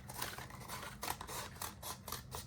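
Scissors snip repeatedly through foam flower petals while trimming the edges of a giant DIY anemone, a close run of crisp cuts and scrapes in quick succession with no talking.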